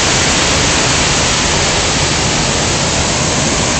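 A loud, steady roar of the Si Dit waterfall in Khao Kho, Thailand, heard close by, continuous and unbroken for the whole stretch, with no voices.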